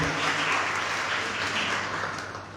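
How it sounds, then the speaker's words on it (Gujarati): An audience claps together in steady applause at a library anniversary gathering, dense and even throughout, easing off slightly toward the end, with no talking over it. "એટલે આપણે લાઇબ્રેરીને પણ તાળીઓથી વધાવીએ."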